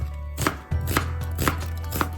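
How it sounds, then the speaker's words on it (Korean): A knife julienning half an onion strikes a cutting board in four crisp, evenly spaced chops, close and clear over a low steady hum. "양파 반개는 채 썰고"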